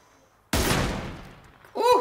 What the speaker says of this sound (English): I actually had a sniper fight right there